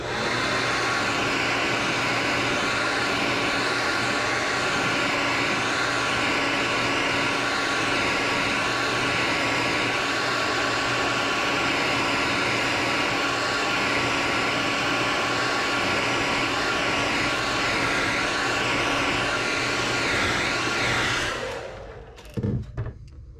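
Heat gun blowing hot air to set paint on a fishing lure, a steady loud broadband roar with a constant whine that runs unbroken for about twenty-one seconds, then cuts off abruptly near the end.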